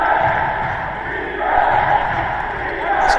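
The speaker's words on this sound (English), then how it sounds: "This crowd have been electric all game long." Basketball crowd at an under-18 playoff final roars and chants in a sustained, swelling wall of voices that rises and falls through the clip, loud and continuous.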